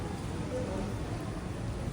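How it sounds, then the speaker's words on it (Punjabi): Heavy rain in Amritsar hisses in a dense, unbroken roar, constant and close, with no pauses or distinct drops standing out. "ਅੰਮ੍ਰਿਤਸਰ ਦੇ ਵਿੱਚ ਵਾਕਈ ਮੀਂਹ ਪੈ ਰਿਹਾ ਵੇਖੋ ਕਿੰਨਾ ਜ਼ਿਆਦਾ ਮੀਂਹ"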